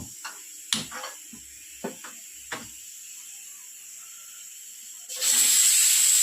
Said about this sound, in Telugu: పొయ్యి వెలిగించు.